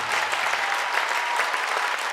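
A studio audience applauds a singer on The Voice of Armenia, a steady dense wash of clapping that carries evenly from start to finish without a break.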